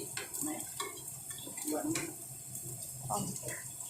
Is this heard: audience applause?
no